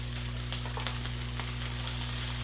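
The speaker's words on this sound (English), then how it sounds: "So that sound, that popping, crisping sound, means this is going to be tasty." Steady sizzling and crackling of garlic fried rice frying in a hot pan, with scattered small pops over a constant low hum.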